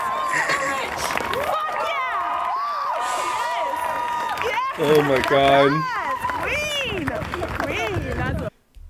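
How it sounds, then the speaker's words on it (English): A protest crowd at an anti-Trump rally erupts in loud cheering and shouting that swells mid-clip and cuts off near the end, while a voice exclaims close by. "Crowd erupts in cheers."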